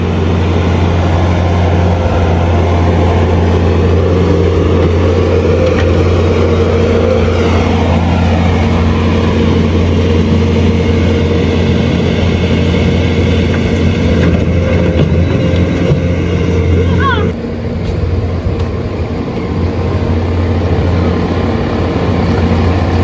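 A Bobcat skid-steer loader working on a gravel driveway, its engine droning loud and steady nearby with a brief dip and clank partway through.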